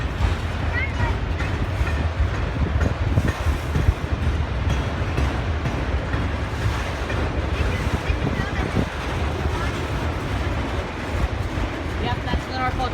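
A Norfolk Southern freight train rumbles past in western New York, a continuous loud roar of rolling cars with heavy wind buffeting on the microphone and a voice speaking over it.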